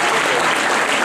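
An audience at a school prize distribution ceremony for a 2018 GK competition applauds, with dense, loud, continuous clapping from many hands throughout.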